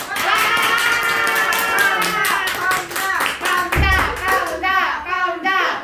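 Students in a high-school math academy classroom clap and cheer together in a quick burst of hand taps, with excited voices and children's chatter mixed in.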